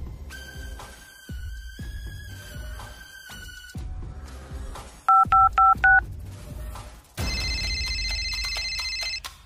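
A melodic electronic phone ringtone plays, broken by short beeping tones, then a sustained buzzy chiming ring; loud and close, no voices.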